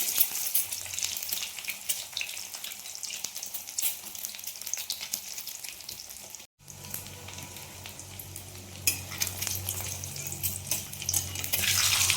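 Egg halves frying in oil in a pan, a steady bright sizzle that runs throughout, broken by a brief silent gap midway, with no talking.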